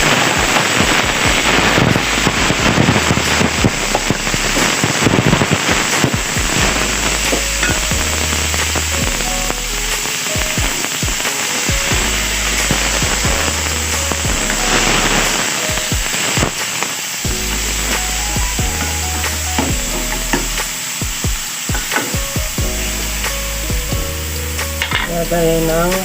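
Onion, garlic and ginger sautéing for Filipino pinapaitan give a loud, steady sizzle and crackle the whole way through, with scattered sharper pops and stirring clatter over a continuous frying hiss.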